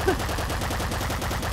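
Bouncer SMG in Nuclear Throne firing a steady, rapid stream of small game-gun shots, close and continuous for a brief burst.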